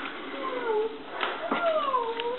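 A cat meows in long, drawn-out, sliding cries, two or three wavering calls in quick succession, close and clear against a muffled musical background.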